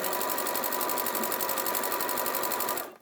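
Several sewing machines run at once in a busy sewing workshop, a dense, steady mechanical whir with a fast even stitching pulse, loud and continuous until it cuts off abruptly at the end.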